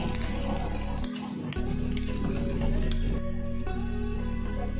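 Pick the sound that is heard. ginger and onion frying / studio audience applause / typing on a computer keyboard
ginger and onion frying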